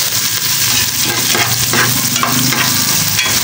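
Garlic and onion sautéing in a pan for chicken sinigang, a loud, dense, continuous sizzle close up with faint scraping of a spatula stirring throughout.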